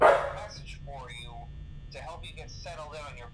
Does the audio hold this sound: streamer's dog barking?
yes